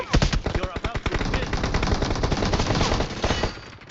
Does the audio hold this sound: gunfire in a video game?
yes